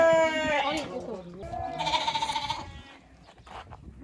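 Sheep and newborn lambs bleating on a pastoral farm with shepherds, several wavering bleats close by while people talk over them.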